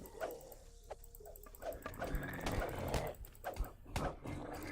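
A companion dog fights in combat in the Dungeons & Dragons Online video game, with yelps and whimpers mixed among clashing game effects and scattered impacts at moderate loudness.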